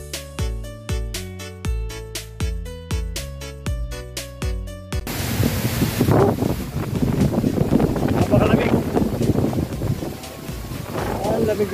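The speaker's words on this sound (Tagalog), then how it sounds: "napakalakas ng hangin" A few seconds of plucked music give way to strong, cold mountain wind in forest at Tanay, Rizal, Philippines, roaring and buffeting against the microphone, loud and continuous.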